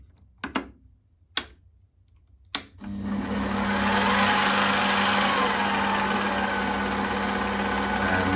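A mini lathe with a piece of nylon clamped in the chuck spins up after a few sharp clicks from the controls, then settles into a steady, close, continuous whirring hum.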